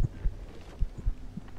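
Heartbeat effect in The Mimic horror game, several low, dull thumps in an uneven paired rhythm, close and muffled over a quiet ambient bed.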